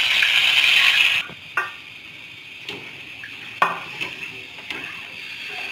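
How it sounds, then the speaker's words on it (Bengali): Hot oil with fried onion and garlic is poured into cooked dal, giving a brief loud sizzle that cuts off, then a few utensil knocks and scrapes against the pot. "ডালটা এখন বাগার দিব, পেঁয়াজ রসুনটা ভেজে নিব"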